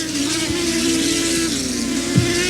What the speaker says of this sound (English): the 15-car field is loud and several are very fast, including a black 92 piloted by one Kevin G